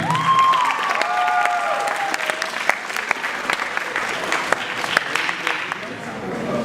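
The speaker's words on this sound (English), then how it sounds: "Make some noise for Raina" Loud, steady applause from a poetry slam audience with scattered cheers and whoops rising over it, sustained throughout.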